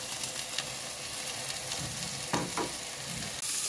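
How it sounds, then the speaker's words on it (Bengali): Hilsa fish fries lightly in a shallow pan of oil, producing a steady, close, crackling sizzle with occasional louder spatters and soft shifts as the pieces are moved. "ইলিশ মাছ খুব বেশি ভাজতেছি না, খালি এপিট উপিট একটু জ্বালাই নিতেছি আর কি।"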